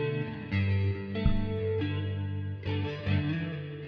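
Clean electric guitar notes and chords ring out with a shimmering, spacious effect, sustained tones swelling and fading at a moderate volume.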